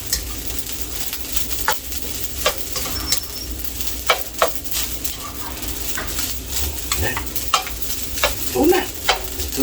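Food fries for a breakfast of fried rice with tocino and eggs, a constant crackling sizzle under repeated sharp utensil clacks and scrapes against the pan, with faint background chirps.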